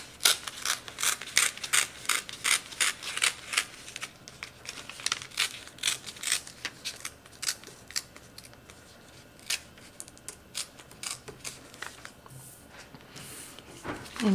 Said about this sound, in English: I'm just gonna tear it.